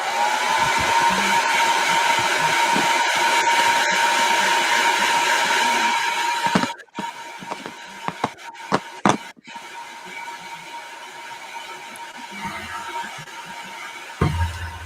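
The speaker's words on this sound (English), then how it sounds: "Back to the dryer." A craft heat dryer blows with a loud steady whine for several seconds and then cuts off, leaving quiet room sounds with a few sharp knocks and taps.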